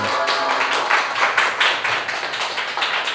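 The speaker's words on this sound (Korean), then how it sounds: "큰 박수로 환영 부탁드립니다." A church congregation at a Wednesday worship service bursts into warm applause, many hands clapping in a steady, close, dense patter for several seconds, with no talk over it.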